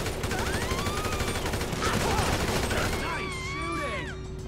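Gunfire in the GTA 5 video game: continuous heavy shooting and rattling automatic bursts fill the whole span, loud and steady, with game voices mixed in.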